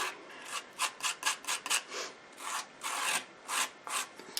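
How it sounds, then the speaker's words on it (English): Homemade dollar store gesso is scraped onto a surface in short, close, repeated rasping strokes, each swelling and fading in an uneven rhythm with brief pauses between. "So you can see how I am just scraping this in here"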